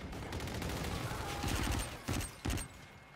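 Gunfire from the Call of Duty: Infinite Warfare video game, a rapid rattle of shots with two louder sharp bursts near the end, set against dense in-game battle noise.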